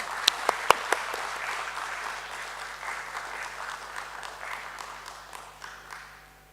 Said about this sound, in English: Let's welcome him with a loud applause.